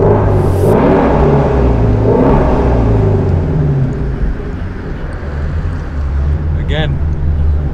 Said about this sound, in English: Tunnel exhaust noise.